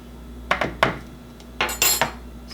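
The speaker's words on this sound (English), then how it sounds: "these containers have that nice little lip on there that you can scrape it off" A metal measuring spoon scraped level across the lip of a plastic baking container, giving a few sharp close clinks and scrapes in two short clusters, with no talking.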